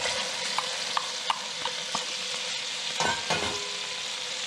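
Onion sizzles steadily in a hot pan, with bright, continuous frying crackle and a few light stirring clicks and scrapes of a utensil through the pieces.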